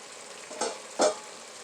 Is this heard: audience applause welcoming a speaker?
no